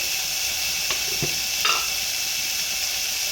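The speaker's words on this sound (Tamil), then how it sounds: "கருவேப்பிலை போட்டு உருளைக்கிழங்கு, காலிஃப்ளவர் எல்லாத்தையும் போட்டுருவோம்" Potatoes, cauliflower and curry leaves sizzle steadily in a hot pan for masala dosa filling, a constant close hiss with a few brief stirring clicks.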